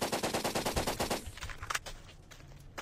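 A rapid burst of about a dozen automatic gunshots in the blocky shooter game Blockpost, evenly spaced and loud, then a few scattered distant shots and clicks as the fire stops.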